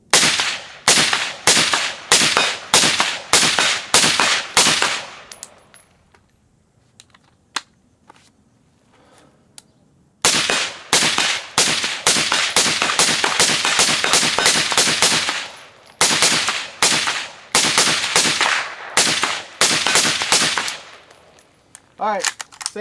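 Law Tactical ARIC rifle fires rapid strings of sharp, loud shots in quick succession, two bursts separated by a quiet pause with faint handling noise, then a final string of spaced rounds.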